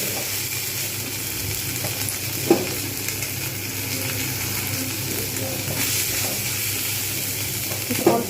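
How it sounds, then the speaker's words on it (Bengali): Prawns frying in spices in a pan give a steady, close sizzle with a soft scrape of stirring now and then, and no voices. "চিংড়িগুলো ঢেলে দিই যতক্ষণ পর্যন্ত না লাল হচ্ছে ততক্ষণ পর্যন্ত আমি এগুলো মশলার মধ্যে ভাজতেই থাকবো"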